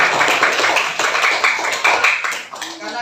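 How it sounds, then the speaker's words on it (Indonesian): Group of children clapping together in a classroom religious lesson, a steady dense patter of applause filling the whole stretch and easing off toward the end. "Tepuk tangan dulu semuanya."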